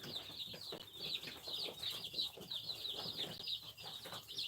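A flock of poultry on a farm, including about a hundred roosters and young chicks, gives steady, fairly close high-pitched peeping and clucking in rapid overlapping bursts, continuous throughout with no talk.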